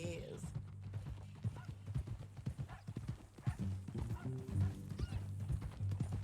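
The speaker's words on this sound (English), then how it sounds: "That new horse?" Horse hooves clip-clop at a steady walking pace in Red Dead Redemption 2, close and rhythmic, with a brief whinny early on and a voice talking over the plodding steps.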